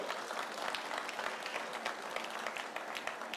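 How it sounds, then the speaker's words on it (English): A sales team applauds at a real estate launch event for DLF Privana North, with dense, even clapping sustained throughout at moderate distance. "It's only the sales teams that is clapping."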